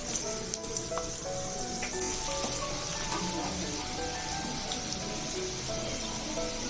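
Chopped garlic sizzles steadily in about a quarter cup of hot oil in a pan for egg fried noodles, a constant hissing fry heard under a person speaking.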